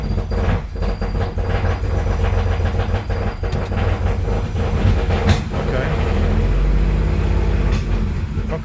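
A Triumph 2000 engine running on one carburettor, a loud, continuous rumble with a rough, uneven idle that holds steady throughout with no talking.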